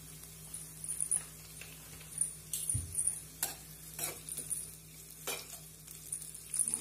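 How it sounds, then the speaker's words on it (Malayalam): Horse gram curry with a pinch of Kashmiri chilli powder being stirred in a pot: faint, scattered scraping clicks from the spoon over a low steady hum, quiet throughout. "നന്നായിട്ടൊന്ന് ഇളക്കി കൊടുക്കുക."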